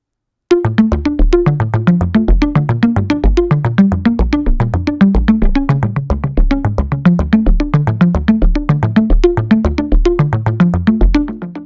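A steady stream of bright, echoing synth plucks, high-passed, made from a credit card sound, repeating in a fast rhythmic pattern, thin in the low end, playing continuously without any voices.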